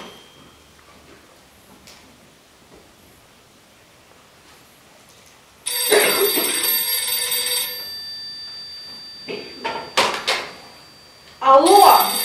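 A telephone in a radio play rings in loud, close bursts of bright metallic bell ringing, starting after a quiet stretch and then returning in shorter jangles, with faint background ticking beforehand.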